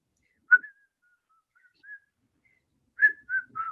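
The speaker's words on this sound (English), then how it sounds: "I don't think it's would be too far fetched to go ahead and just whistle a tune" A single person whistles a short tune alone in a quiet room, a few clear soft notes with pauses between phrases.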